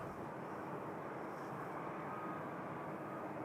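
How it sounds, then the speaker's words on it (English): A Flair Boeing 737 comes in to land at Toronto Pearson, heard as a faint, distant, steady jet roar throughout. "That's a Flare 737 coming in from Vancouver."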